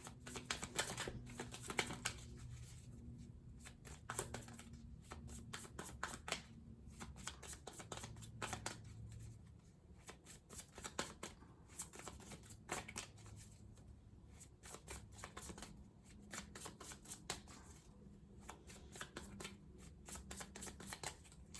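Tarot cards are shuffled and drawn during a reading, giving a long run of dense, crisp riffling clicks in quick bursts with short pauses, close and steady over a faint low background hum.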